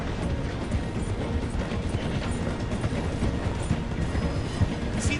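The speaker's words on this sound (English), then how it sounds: "The train is slowing down to go through the station." A steam train in Red Dead Redemption 2 rolls slowly through a station, giving a steady, dense rumble of clattering wheels and rattling mechanisms that continues evenly from start to finish, with no one talking.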